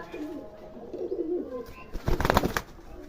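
Pigeons coo softly and repeatedly nearby, with a brief louder rustling burst toward the end and no speech.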